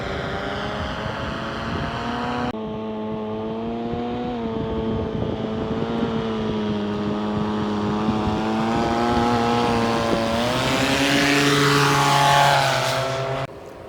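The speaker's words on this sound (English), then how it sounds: "These guys racing the cars, see how fast they're going." Race cars speed across the Bonneville Salt Flats, heard as a sustained, humming engine drone from some distance that gradually swells and shifts in pitch before cutting off abruptly.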